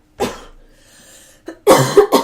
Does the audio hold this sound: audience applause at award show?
no